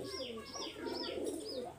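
Pigeons from an imported-bloodline tournament flock coo in soft, low, rolling murmurs, several overlapping calls running continuously at a faint level with no voices.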